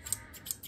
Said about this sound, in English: The scissors themselves feel like they have a good connection so that they would cut well.